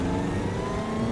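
A 1935 Aston Martin Le Mans race car's 1500cc four-cylinder engine revs hard and steadily, a loud mid-pitched roar with a sustained tone, close by and continuous with no talking.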